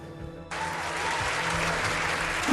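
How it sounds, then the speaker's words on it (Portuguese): An audience bursts into dense, sustained applause after a quiet moment, the clapping loud and continuous to the end. "Uma salva de palmas pelo gesto."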